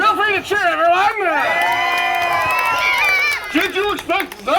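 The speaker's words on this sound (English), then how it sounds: "Feel free to cheer, everyone." Audience at a Renaissance festival show cheers and whoops loudly for a few seconds, with people shouting and talking around the burst of crowd noise.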